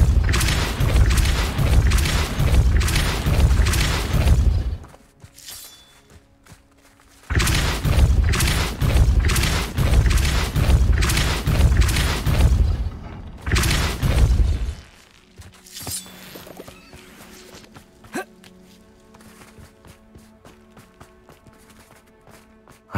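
Depulso spell blasts cast in Hogwarts Legacy, two long loud bursts of roaring, crashing game sound effects separated by brief quiet, followed by softer lingering ambient rumble and tones.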